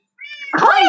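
A video game cat gives a single loud, close meow, starting with a thin high tone that swells into a drawn-out cry.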